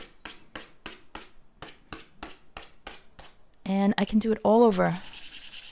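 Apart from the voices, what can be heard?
scratching and scraping the leather of an APC bag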